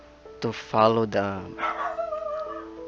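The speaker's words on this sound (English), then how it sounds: "sorry guys, that's my dog." A pet dog barks several times in a close, loud burst indoors, then gives a few softer whining yips as a person talks over it.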